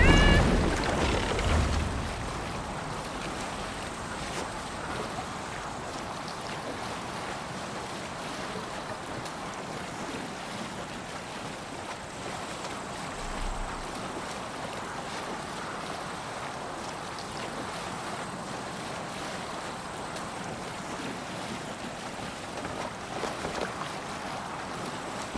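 A Viking sailing ship moves across the open sea in Assassin's Creed Valhalla, with steady wind, rushing waves and water washing against the hull in a continuous, fairly quiet bed of sound.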